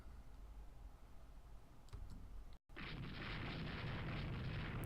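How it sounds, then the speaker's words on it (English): Naval gunfire in the strategy game Rule the Waves II: after a quiet lull and a brief dropout, a loud, sustained roar of guns and blasts bursts in and holds steady. "We are starting to shoot at them."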